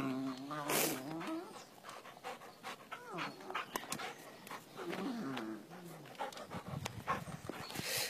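A dog pants and snuffles up close indoors at home during a morning routine, with bursts of excited movement and brief whimpers, while someone speaks French to it.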